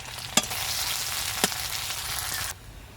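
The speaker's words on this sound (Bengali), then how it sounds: "পেঁয়াজটা হালকা করে আমি ভাজা ভাজা করে নেব এবার আমি দিয়ে দেব কুচি করে রাখা আদা" Chopped onion and ginger fry in oil in a pan for a homemade snack, with a steady close sizzle, two sharp utensil knocks, and the sizzling dropping away near the end.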